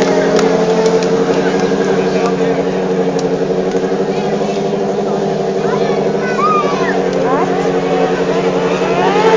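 A motorcycle engine at a motorcycle and rally show in Ercsi gives a loud, steady droning roar that holds for the whole stretch, with faint voices of people nearby.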